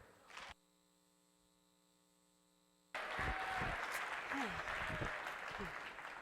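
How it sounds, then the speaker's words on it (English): An audience welcoming a speaker at a homecoming event breaks into loud, sustained applause after a short stretch of electrical hum. The clapping stays dense and even to the end of the clip. "so please help me welcome Autumn Willinga Dunbar."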